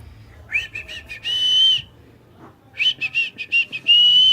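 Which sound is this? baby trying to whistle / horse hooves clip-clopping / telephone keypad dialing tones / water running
baby trying to whistle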